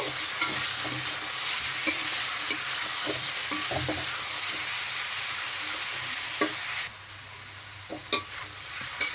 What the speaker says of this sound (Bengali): এদিকে কাঁঠাল ভাজা হতে থাক